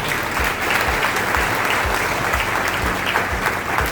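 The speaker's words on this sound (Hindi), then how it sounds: "इनके लिए आप जोरदार तालियां दे दीजिए" A crowd at a student felicitation and career counselling event claps steadily and loudly, a dense sustained applause with rhythmic low thumps running throughout and no talk over it.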